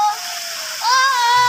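River water flows and rushes near a new bridge, a broad steady hiss of current, loud and close, with a whistling tone and some voices mixed in.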